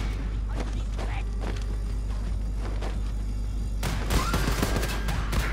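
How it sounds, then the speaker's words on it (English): A gunshot rings out in Wolfenstein II: The New Colossus, a sharp broadband crack late in the clip after a stretch of steady game ambience and scattered thuds, with a voice talking. "Oh, I didn't mean to shoot him."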